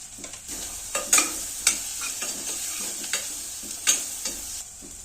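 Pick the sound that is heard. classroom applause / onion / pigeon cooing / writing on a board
onion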